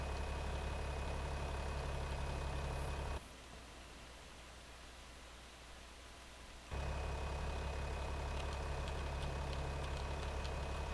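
A tractor engine in Farming Simulator 25 idles with a steady low hum, faint and constant, dipping quieter for a few seconds midway before returning at the same level.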